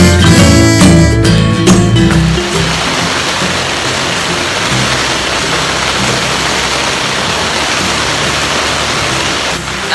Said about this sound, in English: So it wasn't raining this hard like 30 minutes ago